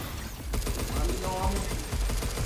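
Rapid gunfire in the video game Pragmata, quick bursts of shots rattling over game sounds while a player talks.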